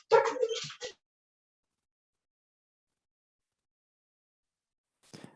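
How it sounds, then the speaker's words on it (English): Excited barking and whimpering from dogs in a home, a brief close yelping flurry at the start and a faint yip after several seconds of silence. "My dogs are going crazy."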